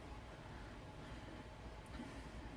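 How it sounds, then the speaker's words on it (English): Steady rumble of a train running on rail, heard as an ominous sound effect introducing an audiobook chapter, continuous and fairly quiet with no voices. "that introduced each chapter, it was a train sound"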